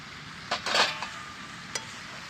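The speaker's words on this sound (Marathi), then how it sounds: "शेंगा टाकून मस्त असं हलवून घेतलं" Drumsticks get stirred into a potato and cowpea curry in a metal pot: a scraping burst of spoon against pan, then a lone clink, over a faint background sizzle, close and without speech.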